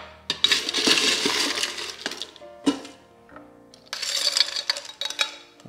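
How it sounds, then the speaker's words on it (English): Ice cubes tumble and clatter into a highball glass for a mixed drink, two loud bursts of clinking and rattling separated by a short pause, close and with no talk. "we're going to fill our highball glass with some ice"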